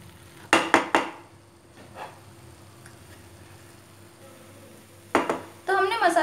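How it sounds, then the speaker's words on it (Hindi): Metal utensil scraping and clinking against a cooking pan as masala is stirred into onions, a few sharp knocks at the start and again near the end over a low background hum. "अब हम इसमें जो बचा हुआ मसाला है वो डाल देंगे और इसे अच्छे से मिला लेंगे"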